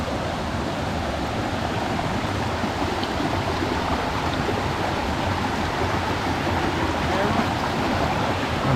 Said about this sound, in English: it looks like we've arrived back at the river